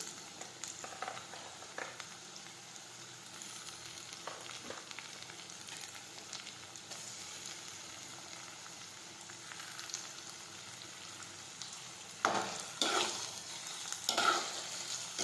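Chopped tomatoes are sautéed in a pan for a leafy vegetable bhaji. The frying gives a soft, continuous sizzle, with occasional louder stirring scrapes that grow more frequent toward the end.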